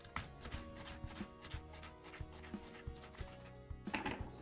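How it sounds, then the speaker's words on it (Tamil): A knife slices cabbage into thin strips for masala egg noodles, with quiet, regular, rhythmic strokes against a board at close range and no talking. "இப்போ நம்மளோட கோஸையும் முடிஞ்ச வரைக்கும் நீல நீல ஷேப்லேயே வெட்டிக்கலாம்."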